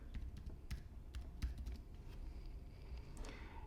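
Soft, quick computer keyboard keystrokes tapping out a short word, faint and steady over a low background hum, with no talking.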